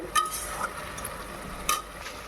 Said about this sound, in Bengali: নিরামিষ তরকারি করছি